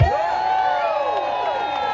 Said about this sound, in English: let us give a big round of applause to Democracy Action Network